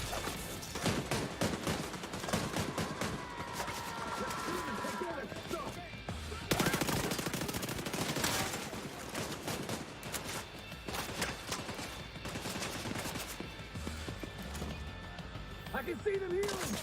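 A shotgun fires repeatedly in The Division 2, close booming blasts scattered irregularly through a busy firefight, with people talking over the gunfire.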